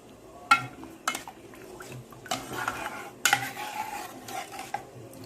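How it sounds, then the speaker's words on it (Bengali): A spoon clinks and scrapes against a pot as a vermicelli mixture is stirred into milk, with irregular knocks over a soft bubbling background. "ওই যে মিক্সচারটাকে খুব ভালো করে আমি দুধের সাথে মিলিয়ে নেব"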